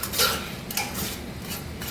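Sugar stirred in a pot as it melts into caramel, a utensil scraping and clinking against the metal in a few brief strokes over a steady background hiss, close and moderately loud.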